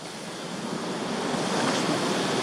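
Waterfall in the woods near Bowman Lake, a steady, dense rush of falling water that builds slightly louder over the span, heard alone without voices.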